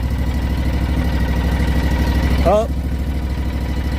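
A vehicle engine idles at low throttle during a driving demonstration, a steady close rumble throughout while someone talks over it.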